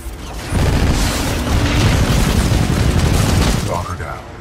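Heavy weapons fire and booming explosions blend into a loud, sustained wall of combat noise in Titanfall 2, rumbling steadily for several seconds before tapering off.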